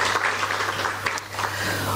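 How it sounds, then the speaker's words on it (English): Conference audience applause, a steady wash of many hands clapping at moderate loudness with a faint hum underneath, holding evenly throughout. "And can we give them another round of applause as well?"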